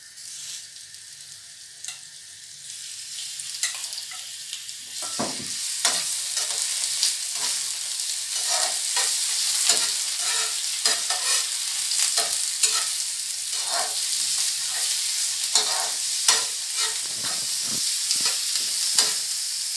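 Rice with prawns and onions is stir-fried in a pan for coconut fried rice: a quiet start swells into a steady sizzle, punctuated by repeated sharp scraping and tossing strokes.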